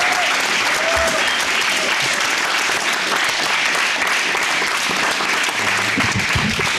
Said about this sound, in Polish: Czy kończymy oklaskami dla wszystkich za, myślę, naprawdę świetny blok filmów